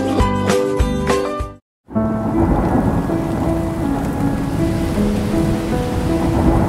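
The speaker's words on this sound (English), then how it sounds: "One night, a terrible storm swept through Merivale." A thunderstorm roars with heavy pouring rain and rumbling thunder, loud and dense, after a short burst of music cuts to a brief silence.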